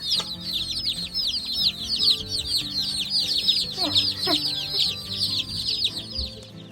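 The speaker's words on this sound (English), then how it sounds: "all 40 of our Buff Orpington chicks in this brooder" A dense chorus of high peeps from about 40 Buff Orpington chicks in a brooder, chirping continuously, many birds at once, steady and close with no pauses.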